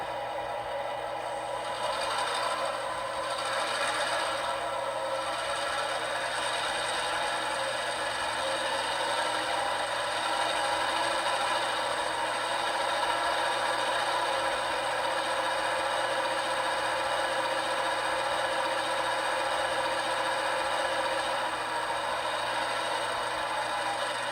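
HO scale Athearn Genesis GP38-2 diesel locomotive with a Tsunami 2 DCC sound decoder, jumped straight to notch 8, gives a steady, loud, droning engine roar with mechanical clatter and rattle that holds constant throughout, with no talking.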